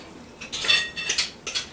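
Metal cutlery clinks and rattles as a spoon is pulled from a drawer or holder, three quick bright bursts of jangling over about a second, close and fairly loud.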